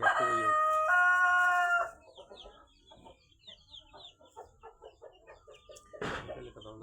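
Chickens cluck and a rooster crows loudly at the start, followed by scattered softer clucks and fowl calls nearby, with a brief louder squawk near the end.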